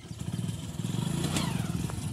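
A motorcycle engine runs nearby with a steady, pulsing rumble and some rattling clatter, heard on its own without talk.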